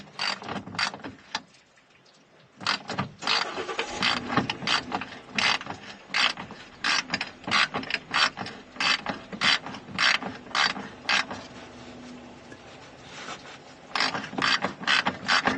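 A hand ratchet wrench turning out a long bolt on a broken truck, fast clicking bursts of the pawl in repeated strokes with brief pauses, close and loud, with no talk.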